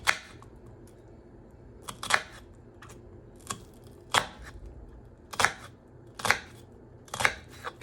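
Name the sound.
knife cutting a sweet or yellow onion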